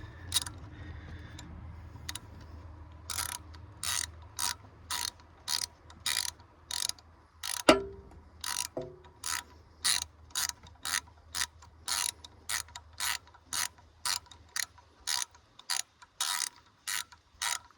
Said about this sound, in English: I think I'm just gonna grab my ratchet and then I'll just tighten it down the rest of the way